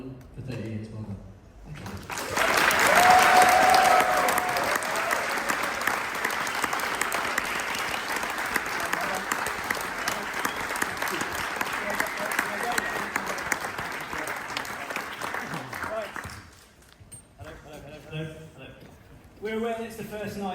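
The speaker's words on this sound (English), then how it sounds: "Let's just have one more big round of applause for Nick Bat and Andy." Applause from a large audience at a synth trade fair's surprise 30th birthday celebration, a dense sustained clapping that swells loudly and runs about fifteen seconds before fading, with talk before and after.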